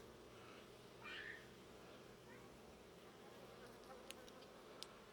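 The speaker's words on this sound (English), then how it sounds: "There's a mad bee." Honey bees hum softly around an open hive during an inspection, with one agitated bee zipping close in a brief louder buzz over the faint steady drone.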